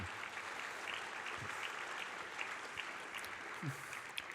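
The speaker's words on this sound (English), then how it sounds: "Give them a round of applause for what their jobs they've been doing over the years" Applause for medical school faculty and staff fills the room as a steady, fairly quiet wash of clapping, with a few voices faintly audible underneath.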